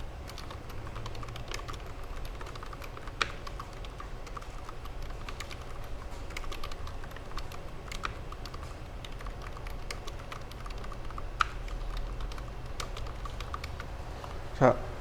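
Computer keyboard typing text in drawing software, a steady stream of quiet rapid key clicks with a few louder taps, under soft background noise.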